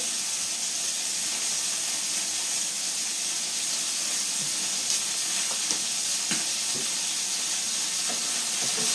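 Chicken sizzles and hisses steadily in a frying pan after a little oil goes in, a dense, even crackle with occasional small pops close by, and nobody talking.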